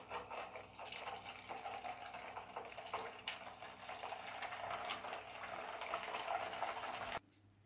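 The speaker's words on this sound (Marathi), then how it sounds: "तर अशाच पद्धतीने आपण राहिलेले देखील मेदूवडे आपण तळून घेऊया।" Rice-flour medu vada frying in hot oil, a faint, steady bubbling sizzle with scattered crackles that runs for several seconds and then cuts off abruptly.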